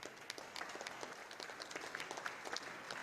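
Enthusiastic applause from participants at the closing ceremony of a Pyongyang international science and technology book exhibition, dense, even clapping sustained throughout, fairly distant and moderately quiet.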